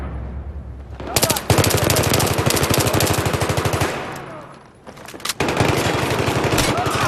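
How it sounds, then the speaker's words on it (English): Machine gun fire rattles in two long, loud rapid bursts, with a short pause between them. "Look out, I spotted a hostile machine gunner."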